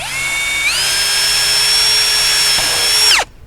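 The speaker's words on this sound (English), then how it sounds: "I'm going to drill plumb through them about 6 places here." A power drill drives a bit through privacy fence wood with a loud, close, high-pitched whine that climbs in pitch as it spins up, holds steady for a few seconds, then winds down abruptly.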